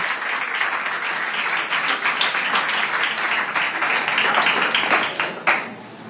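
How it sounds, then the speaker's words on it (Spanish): Audience applause at a Spanish Language Day celebration, a steady wash of many clapping hands sustained for several seconds before tapering off near the end; no talk over it. "Démosle un fuerte aplauso a Melissa Merlo."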